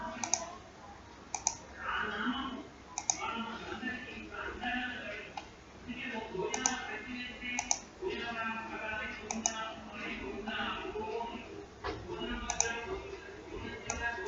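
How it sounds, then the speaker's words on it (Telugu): A computer mouse clicks in sharp, scattered single clicks spread across the stretch, close and distinct, while someone talks steadily underneath. "అప్లై బటన్ మీద క్లిక్ చేయండి"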